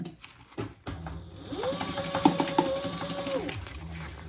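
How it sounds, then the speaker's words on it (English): A sewing machine stitching over tape on a torn spot in backpack fabric, a short run of fast, even mechanical whirring that rises, holds for about two seconds and stops, close by with faint handling noise before it. "I'm just going to stitch right over that tape that I put there"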